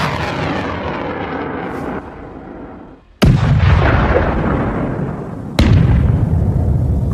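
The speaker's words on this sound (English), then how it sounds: "HIMARS operators open fire." HIMARS rockets fire on a Russian command center, two sudden loud booming blasts a couple of seconds apart over a continuous roaring rumble.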